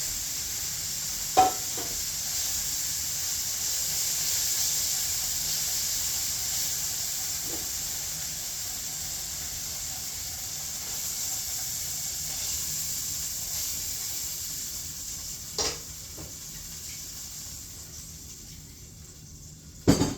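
Steady sizzling hiss of chicken breast frying in a hot pan with oil and butter, continuous throughout with a few faint clicks and clanks of utensils.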